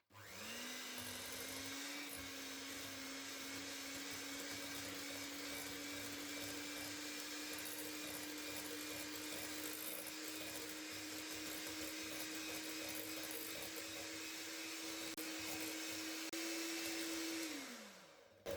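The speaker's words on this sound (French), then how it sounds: "Et là, on va ajouter notre mascarpone. Et on va mélanger le tout." An electric mixer whirs steadily as mascarpone is blended for strawberry tiramisu, a constant high motor drone held for many seconds before spinning down at the end.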